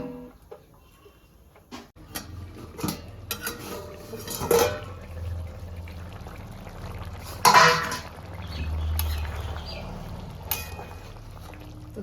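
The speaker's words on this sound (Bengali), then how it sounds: "তো এবার আমি ঢাকা দিয়ে দিচ্ছি" A lid set on a cooking pot of morola fish curry with potato and okra: a few scattered metallic clinks and knocks, with two louder clatters standing out over a quiet kitchen background.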